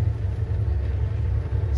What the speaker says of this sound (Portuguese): Deixa eu virar o caminhão aqui.